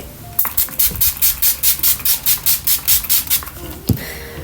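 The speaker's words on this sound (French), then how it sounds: "spray de Max & More pour garder le make-up un peu plus longtemps" Max & More setting spray misted over a made-up face in a quick run of about thirteen short, even hissing bursts, close and crisp, then a brief knock near the end.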